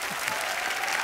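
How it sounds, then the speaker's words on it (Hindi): Loud, dense studio audience applause on a comedy talk show stage, a continuous wash of clapping from a large crowd, with no gaps. "एक बार जोरदार तालियां बच्चा के लिए"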